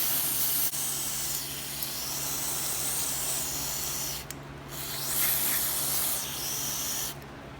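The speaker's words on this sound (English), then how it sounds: "just clean the whole thing off with carb cleaner" Carb cleaner hisses from an aerosol can onto a Honda GCV160 lawnmower carburetor in close, sustained bursts, broken by two short gaps, with no talking.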